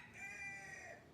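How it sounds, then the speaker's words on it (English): A rooster crows once, faint and distant, drawn out over about a second in a quiet indoor setting. "shh, bird."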